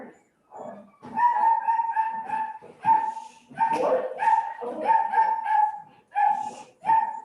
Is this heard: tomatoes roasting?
no